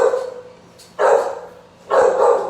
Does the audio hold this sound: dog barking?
yes